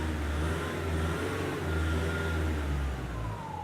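A car engine revs and holds steady at a mid pitch with a low, continuous drone, heard up close in a workshop during a handheld scan tool demonstration, with no talking.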